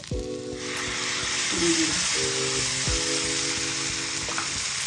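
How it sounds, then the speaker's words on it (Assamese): Tomato and cashew paste fries in hot oil for Assamese fish kalia, a steady close sizzle running throughout with a faint hum beneath and a brief spoken word. "যেতিয়ালৈ তেল নুঠে তেতিয়ালৈ ভাজি দিম"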